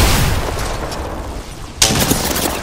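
A grenade explosion and gunfire in a shooter game, with a loud opening blast fading into steady combat noise, then a sharp new burst of shots and impacts near the end.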